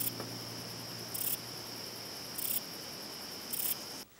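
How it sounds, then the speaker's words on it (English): Insects chirp in a steady high-pitched drone, crickets by the sound of it, with brief louder bursts of shrill trilling about every second and a quarter, then cutting off near the end; no voices. "To us, insects might sound like this."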